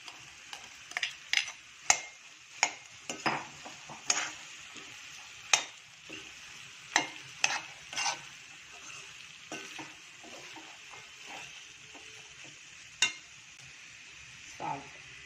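Peas and tomato sizzle and fry in a pan for batani chaat while a spoon stirs them, giving scattered scraping clacks over a steady hiss.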